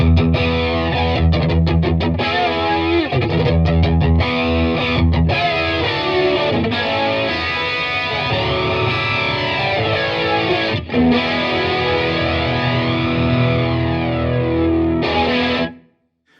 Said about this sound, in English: let's hear what the flange sounds like with that same setting